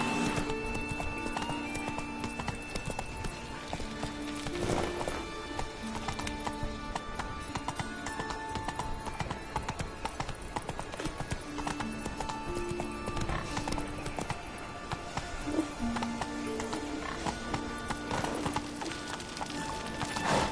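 Hooves of the horse Roach clip-clop in a steady trotting rhythm in The Witcher 3, with occasional whinnies and game music layered over the even beat.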